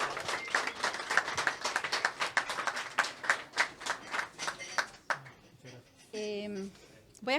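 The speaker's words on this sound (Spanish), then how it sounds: "Un gran aplauso y bienvenida" An audience at a poetry night in Casa Parker, Alajuela, applauds a poet in a dense burst of clapping that fades after about five seconds, followed by a brief voice and a sustained musical tone.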